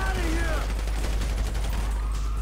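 Rapid bursts of gunfire in GTA 5 rattle steadily through a dense, continuous game mix, with voice fragments and melodic tones briefly overlapping near the start.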